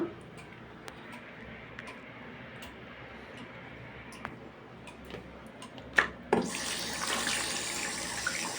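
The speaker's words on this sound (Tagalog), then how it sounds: "Hugas mo na ng plato" A kitchen tap turned on for washing dishes, a steady gush of running water starting partway through after quiet clicks and small clinks of plates, close and moderately loud.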